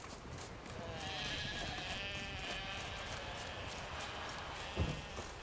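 Sheep bleat faintly in the video game The Witcher 3: Wild Hunt over a soft, steady background hum, with a brief thump near the end.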